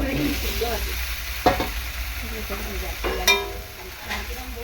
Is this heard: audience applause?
no